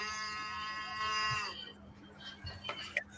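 A cow moo sound effect, played as a fan's boo during an NFL watch party, gives a long, loud, low bovine call that fades out, followed by faint voices and room noise.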